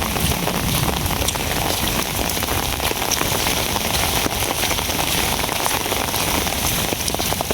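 Heavy rain pours down steadily on surfaces around a flooding home, a dense, loud, unbroken hiss of drops with no voices.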